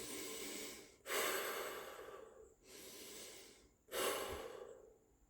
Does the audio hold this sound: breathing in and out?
yes